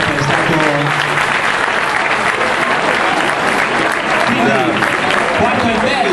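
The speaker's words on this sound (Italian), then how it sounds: "Un applauso lo stesso però" A crowd at an outdoor village relay race gives sustained, loud applause for a disqualified runner, a dense continuous wash of clapping with voices mixed in throughout.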